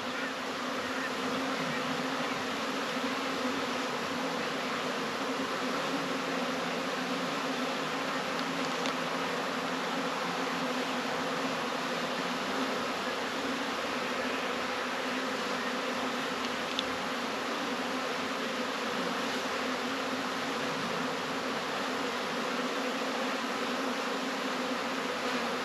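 Steady, dense buzzing of many bees swarming close by, a continuous drone with no pauses or voices.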